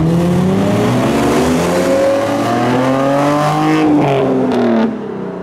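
A modified car accelerates hard away from a Japanese car meet in Reading, its engine note climbing in rising harmonics through several seconds of loud, close revving before dropping off suddenly near the end.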